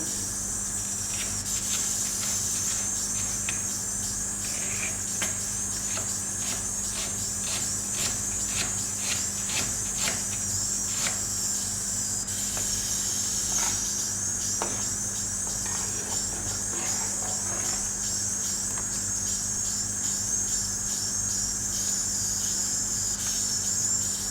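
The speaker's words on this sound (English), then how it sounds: "I am chopping some onions for my breakfast kanda poha." Onions are chopped with a knife on a board beside a simmering pot of kadhi, a quick series of soft, sharp taps and cuts over a steady kitchen hiss and hum.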